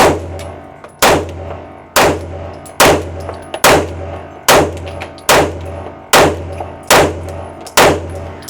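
Pistol shots fired at targets with a Sig Sauer P211 or Kimber 2K11 Comp: nine sharp, loud reports at a steady pace of about one per second, each with a short ringing decay, and no talking.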